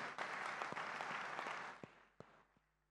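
A church congregation breaks into applause during a worship service, a dense, steady clapping that holds for a couple of seconds, then thins out to a few scattered claps and fades to quiet.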